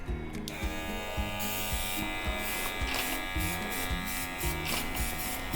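An airbrush sprays light blue paint with the nozzle opened fully for wide coverage, giving a steady hiss under a constant nearby compressor buzz that pulses in a regular rhythm throughout.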